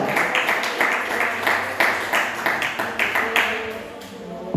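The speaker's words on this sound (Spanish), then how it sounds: "Denle ese aplauso al Señor, denle ese aplauso a Cristo" A church congregation claps together in a steady, rhythmic beat, loud and close, with voices mixed in over the clapping.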